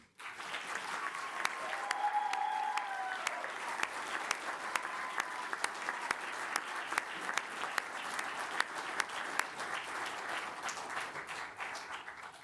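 Sustained applause from the audience at a joint city council and stadium authority meeting fills the room for about twelve seconds. The clapping stays steady and dense, with a faint voice briefly audible early on.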